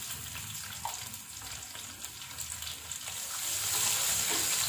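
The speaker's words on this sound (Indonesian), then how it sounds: "Kita taruh minyak secukupnya. Pertama-tama kita akan masukkan bawang." Onions going into hot oil in a pan for a green chilli tuna dish: a loud, continuous sizzle and crackle that swells louder toward the end, with occasional stirring scrapes and no talking.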